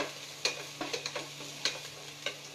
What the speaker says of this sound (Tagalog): gisa natin mabuti. Wait for the caramelized smell.